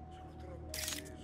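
A camera shutter clicks in the Spider-Man video game, a brief bright snap rising over a steady game ambience and low background hum.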